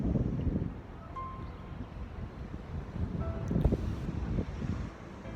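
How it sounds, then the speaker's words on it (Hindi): Strong gusts buffet the microphone on an open outdoor volleyball ground at night in International City, Dubai, giving a steady low rumble and rustle with surging gusts throughout and no talking. "हवा काफ़ी तेज़ चल रही है, तो हो सकता है मेरी आवाज़ में थोड़ी सी सरसराहट आ रही हो"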